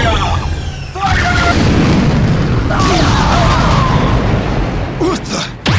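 Ship cannon fire and explosions in the Asura's Wrath video game, with a loud sustained booming roar and bursts that swell and fade. Voices shout over the blasts.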